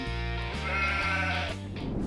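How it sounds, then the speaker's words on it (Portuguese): A sheep bleats in a long, wavering, nasal cry that shifts pitch in several steps, loud and close with nothing else heard alongside it. "Ovelha!"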